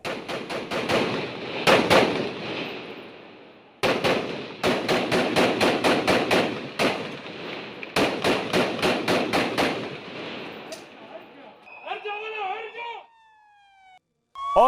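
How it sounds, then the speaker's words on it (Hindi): Gunfire in a gun fight between the Israeli army and Hamas fighters among buildings: loud rapid bursts of automatic shots with short pauses, followed by a brief wavering siren-like tone near the end. "आप देखिए गोलियों की आवाज"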